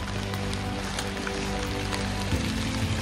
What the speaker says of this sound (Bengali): বৃষ্টি হচ্ছে তো হচ্ছেই